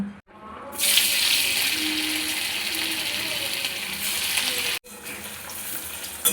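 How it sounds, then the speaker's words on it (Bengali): Paneer pieces fry in hot oil in a pan, a loud broad sizzle that bursts in after a brief quiet, holds steady, breaks off for a moment and then resumes. "पनीरगुलो भेजे नेब।"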